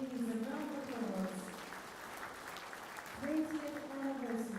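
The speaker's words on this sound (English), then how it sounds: "a round of applause" Moderate applause from the audience at the Fiji Business Excellence Awards ceremony, with a voice audible over the clapping at the start and again near the end.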